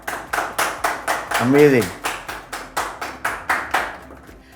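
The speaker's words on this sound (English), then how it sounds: "She deserves a huge round of applause from all of us." Applause for Rhea Jain at a podcast taping: a small group claps in a steady, rhythmic series of about a dozen sharp, close claps while one voice calls out briefly over them.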